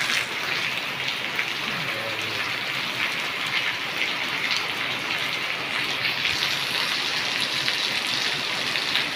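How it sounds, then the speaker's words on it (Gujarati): Heavy monsoon rain in Dahod pours steadily in a dense, even hiss without pause, loud and close throughout. "ખૂબ જ વરસાદ પડી ગયો છે દોસ્તોને ખૂબ વરસાદ છે"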